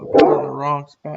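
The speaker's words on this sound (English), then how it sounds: "That's his dog's barking" A pet dog named Ozzy barks close by in a short outburst of a few sharp barks, heard alongside someone talking.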